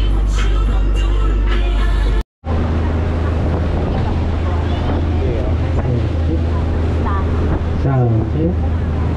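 A motorboat engine drones steadily on a trip to Boracay, with wind buffeting the microphone, a brief dropout early on, and people talking faintly over the engine noise.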